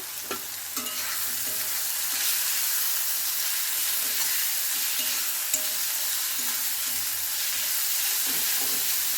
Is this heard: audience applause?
no